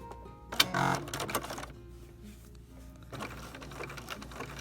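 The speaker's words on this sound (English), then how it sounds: "And then I'm just going to stitch around the edges." Sewing machine stitching around the edges of a quilt block with decorative stitch, a loud burst of rapid mechanical whirring early on, then quieter intermittent machine hum and handling noise.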